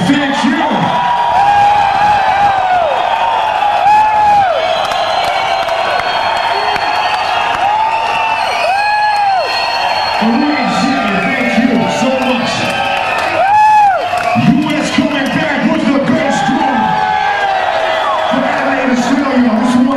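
A live concert crowd at a show in Australia cheers and whoops loudly and continuously, with screams and shouts rising in bursts and some clapping mixed in.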